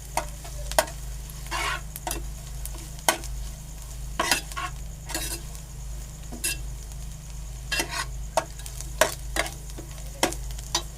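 Onions with salt stir-fried in a pan: sharp spatula scrapes and taps arrive in irregular bursts over a steady low sizzle and hum, close and fairly loud, with no talking.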